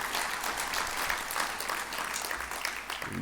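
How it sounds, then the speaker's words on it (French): An assembled audience at a municipal gathering applauds in memory of a longtime municipal guard, the clapping steady and moderately distant, filling the whole stretch without voices. "Vous pouvez l'applaudir aussi, oui."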